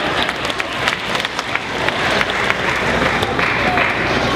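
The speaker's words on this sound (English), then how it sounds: "applaud wildly for the flowers" Wild applause from an audience at an educational magic show, dense clapping with a few sharper claps standing out, building slightly louder through the second half.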